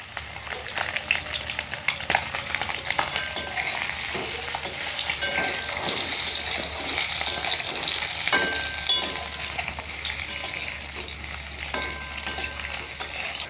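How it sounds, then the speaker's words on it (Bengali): Eggs fry in hot oil with a pinch of Kashmiri chilli powder for a masala egg curry, a steady close sizzle with occasional spatula scrapes and stirring, no voices. "ডিম ভাজার সময় সামান্য একটু কাশ্মীরি লঙ্কার গুঁড়ো দিয়ে দিচ্ছি"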